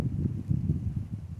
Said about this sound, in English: So anyway, it's windy.